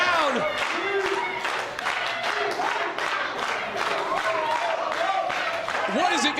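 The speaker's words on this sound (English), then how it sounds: "This crowd screaming, finish him," A wrestling arena crowd roars and claps in a dense, sustained wave of cheering and yells during a match between Velveteen Dream and Elijah Burke, loud throughout with individual shouts rising above the din.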